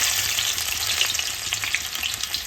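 Dense, steady sizzling of oil in a pan with fried dried red chilies as chopped onion goes in, a loud crackling hiss with light stirring scrapes and no voices.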